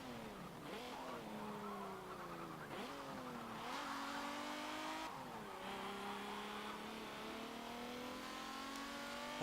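Vintage sport compact race cars from Forza Motorsport 7 roar continuously near and loud, engines revving up and dropping through several gear shifts in rhythmic sweeps, with brief tire squeal mixed in and no talking.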